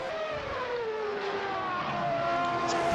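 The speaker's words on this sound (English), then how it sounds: "I'm enjoying just listening to the sounds of these cars as they roar around the street circuit." Racing cars in Assetto Corsa, a 1991 Australian Grand Prix street circuit event, roar past with a steady engine drone whose pitch slowly sweeps down, one car's note prominent over others, continuous and fairly loud throughout.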